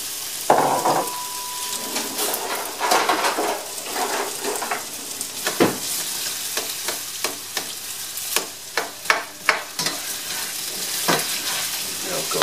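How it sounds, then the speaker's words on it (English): Potatoes sizzle and fry in olive oil in a pan, close and steady, with repeated clacks of a utensil stirring and scraping against the pan. "we're going to pour the potatoes in"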